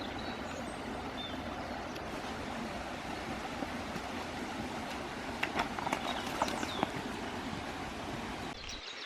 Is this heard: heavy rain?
no